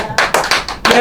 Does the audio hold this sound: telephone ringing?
no